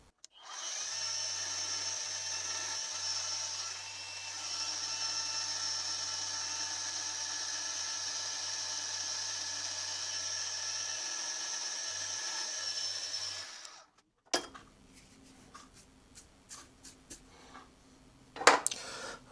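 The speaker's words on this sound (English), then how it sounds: "I'm just going to mark the position with the centre drill" A milling machine spins a centre drill to mark a hole position on a Quorn Mk3 tool grinder base casting, giving a steady whining tone for about thirteen seconds before it stops, followed by scattered clicks and handling noises.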